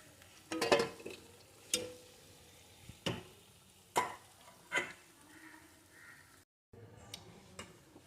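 Gokul pitha filled with milk kheer sizzles in hot oil with a soft, steady hiss, punctuated by several sharp clinks and knocks of a utensil.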